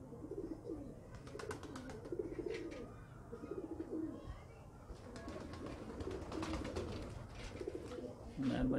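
Pigeons coo repeatedly in a soft, low rhythm with a few chirps, near and steady throughout, while someone talks faintly in the background.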